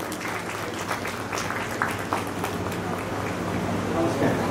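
Applause from an audience at an Odia cinema festival in Puri greets a guest speaker: steady, dense clapping across the whole span, moderately loud, with a few sharper claps standing out.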